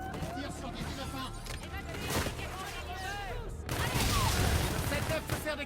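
Rapid bursts of video game gunfire and explosions crackle continuously, with shouted voices and battle noise layered over them, growing louder toward the end.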